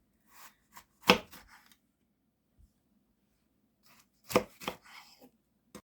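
A knife chops through green bell peppers on a board in two short clusters of crisp, close cuts, separated by a quiet pause, with no talking.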